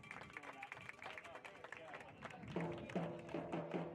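Crowd at a Napa Valley 1839 FC home soccer match claps and cheers for the Napa team, a steady wash of applause and voices that grows louder and fuller toward the end, while a voice talks over the noise.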